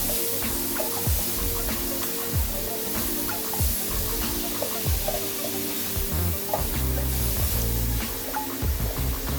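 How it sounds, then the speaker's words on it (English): Chopped onion sizzling and frying in a pan on high heat while being stirred, a steady loud crackle with repeated scraping strokes of the spoon throughout. "Abby is going to have to stir it faster because it's on high heat right now."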